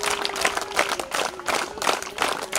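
A crowd claps in welcome for Mallanna at a school shoe distribution event, with steady rhythmic applause in waves that swells and dips, fairly close and with no talk over it.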